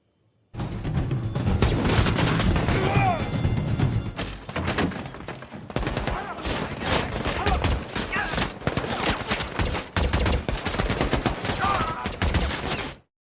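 Gunfire rattles through a battle scene from the film American Sniper, with dense volleys of shots, thuds and impacts crowding one another for over twelve seconds, and voices buried in the chaos.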